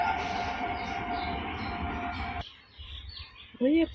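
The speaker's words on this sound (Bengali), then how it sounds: "ট্রেন যাচ্ছে।" A train rumbles past as a broad, loud wash of noise that cuts off abruptly partway through, followed by quieter ambience and a short bird-like chirp near the end.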